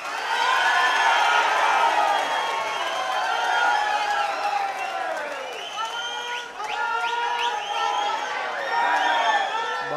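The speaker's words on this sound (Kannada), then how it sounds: "ಬಹಳ ಜೋರ್ದಾರಾಗಿ ಚಪ್ಪಾಳೆ ಹೊಡೆದು ಶಿಲ್ಲೆ ಹೊಡೆದು ಜೈಕಾರ ಹಾಕಿದ್ದೀರಿ" A large crowd at an election rally in Shivamogga claps, whistles and cheers loudly and continuously, with shouts and whoops rising over sustained applause throughout.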